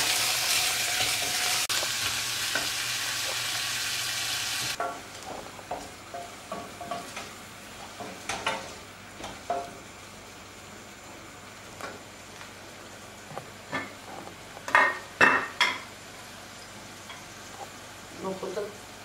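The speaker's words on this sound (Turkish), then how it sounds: "Bir ədə soğanı yağda yavaş yavaş qovururam, çox qızartıram." Onions fry slowly in oil with a loud, bright sizzle for the first few seconds, then a quieter hiss broken by irregular bursts of stirring and scraping in the pan, close by.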